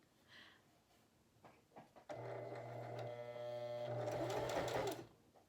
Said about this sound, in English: The machine is gonna be a little loud, so just watch it as it sews